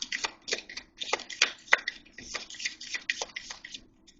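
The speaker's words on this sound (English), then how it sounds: "One more shuffle." Tarot cards being shuffled by hand in a quick run of crisp riffling bursts and soft slaps, close and fairly quiet, with no voice over it.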